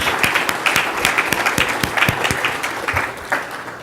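A conference audience applauds a volunteer team at a space industry keynote, with individual claps standing out in a lively, uneven rhythm that swells and fades.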